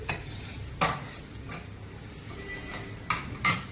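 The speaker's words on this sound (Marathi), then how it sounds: "आता छानपैकी अद्रक लसूण हिरवी मिरची आणि कांदा एकजीव झालेले आहे" Ginger, garlic, green chilli and onion frying together in a pan, with a soft steady sizzle broken by a handful of sharp scraping stirs of a spatula against the metal, spaced irregularly and fairly close.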